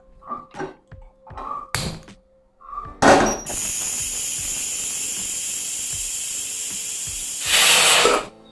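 A pressure cooker of carrot rice payasam hisses steam in one steady, loud continuous jet that swells stronger near the end, preceded by a few short clanks and thumps from the lid being closed.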